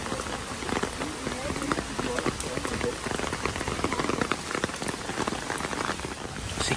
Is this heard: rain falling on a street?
yes